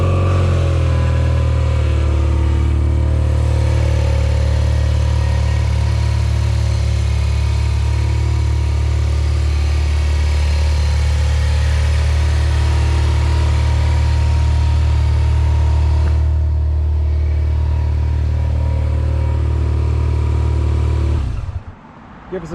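A 2026 BMW R12 G/S motorcycle engine idles with a deep, steady rumble for a long stretch, then cuts off abruptly at the end.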